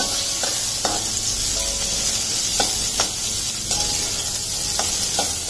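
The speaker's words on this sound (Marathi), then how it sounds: "मोठ्या गॅसवर हे असं परतत राहायचं आपल्याला" Chopped onion sizzles and sputters in a pan over a high gas flame, a loud, steady frying hiss broken by short scraping stirs at irregular intervals, close up with no speech.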